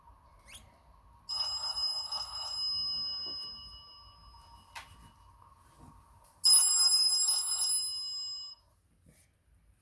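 A telephone rings indoors in two separate electronic bursts with a quiet gap between them, fairly near and heard alone without any talk.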